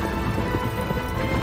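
Rapid hoofbeats of a galloping horse in Shadow of the Colossus blend into a dense, steady wash of game noise with no clear pauses.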